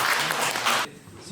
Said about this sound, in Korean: 예, 박수로 환영해 주시기 바랍니다.